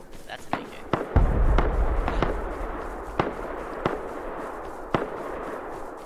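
An AK rifle fires in the game Rust: about ten sharp single cracks at irregular intervals, some close and punchy, others thinner and farther away, over a low background rumble.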